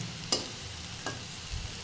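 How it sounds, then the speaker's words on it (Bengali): Coriander leaf fritters deep fry in oil, a quiet steady sizzle broken by two or three soft clicks or stirs, close but faint. "বড়াগুলো সব দিয়ে দিয়েছি, একদম ডুবো তেলে ভেজে নেব"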